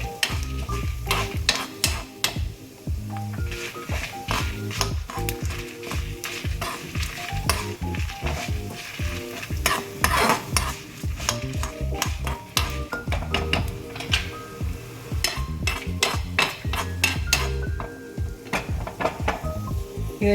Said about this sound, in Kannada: ಒಂದು 2 ನಿಮಿಷ ಈ ಥರ ಸಣ್ಣ ಉರಿಯಲ್ಲಿ ಹುರಿದ್ರೆ ಸಾಕು